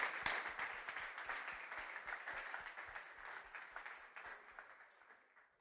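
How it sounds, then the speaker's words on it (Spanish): A church congregation applauds, dense clapping from many hands that starts full and gradually thins and fades toward the end. "¿Por qué no le damos un aplauso a Jesús por estas iglesias?"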